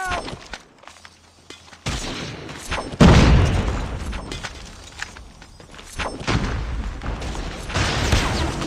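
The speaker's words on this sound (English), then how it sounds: "Frag out!" A frag grenade blows up in a Call of Duty Mobile search-and-destroy match: one loud, close boom, with game gunfire and rumbling effects before and after it.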